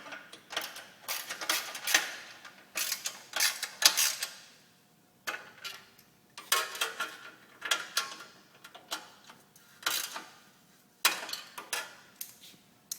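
A socket ratchet snugging the exhaust bolts on a Big Dog motorcycle fitted with a Big Radius exhaust system, giving bursts of rapid metallic clicking close by that stop and start with short pauses, and no voices.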